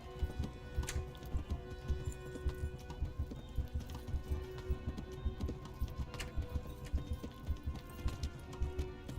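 Horse hooves gallop in the Kingdom Come video game, a steady, rhythmic run of hoofbeats at moderate loudness over a constant game background, without speech.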